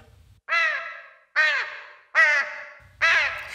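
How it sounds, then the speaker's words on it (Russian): A crow caws four times in a tree, each call loud, harsh and close, spaced about a second apart with brief quiet between them. "Не унималась на дереве ворона."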